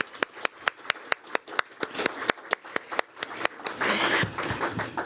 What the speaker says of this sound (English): Let's give another round of applause for Dr. Eberlein.